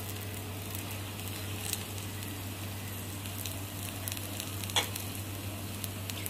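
Ragi and moringa-leaf adai sizzling on a tawa, a soft steady frying hiss with occasional faint crackles and small pops, quiet and close with no talking.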